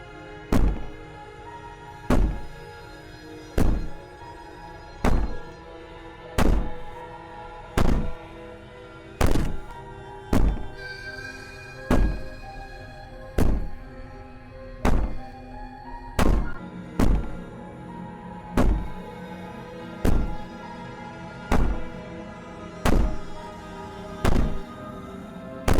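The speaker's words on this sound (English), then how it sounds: "Maybe the banging and wailing will stop if you just don't pay attention to" Heavy, evenly spaced banging from the video game Slay the Princess, a loud thud about every 1.3 seconds repeating over a low droning score with no voices.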